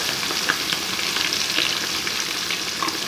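Food sizzles steadily in hot oil, a dense continuous crackle with small pops scattered throughout, close up and alone with no voices.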